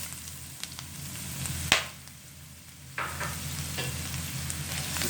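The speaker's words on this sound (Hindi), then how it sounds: "ऑयल अच्छे से गर्म हो चुका है, इसमें हमने एक बारीक मीडियम साइज़ का कटा हुआ प्याज डाल देंगे।" Finely chopped medium onion frying in hot oil for a pizza sauce, a close, continuous crackling sizzle with a couple of scraping stirs and no voices.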